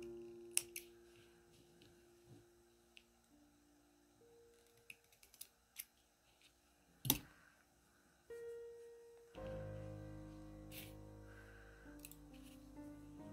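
Small scissors snip off the yarn ends of a crocheted sunflower in a quiet room, making a scatter of soft, sharp clicks and cuts, with one louder snap near the middle and some handling noise afterwards.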